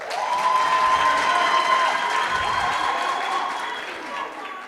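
Applause for a speaker at a university student council inauguration ceremony on the UFS QwaQwa campus, a dense crowd clapping loudly and steadily before gradually thinning toward the end.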